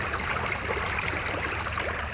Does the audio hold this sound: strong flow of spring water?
yes